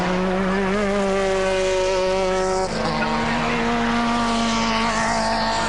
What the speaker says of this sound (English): Now picking up speed down the fire road here and onto the track, heading towards Maggots, the left-hand kink.